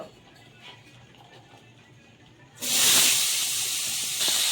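Chopped potatoes drop into hot oil on a tawa, bursting into a loud sizzle after a quiet start and frying steadily to the end.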